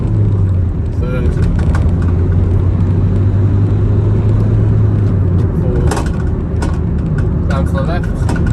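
Nissan NV200 cargo van engine during a test drive, a steady low drone and road rumble that continues throughout, with someone talking over it.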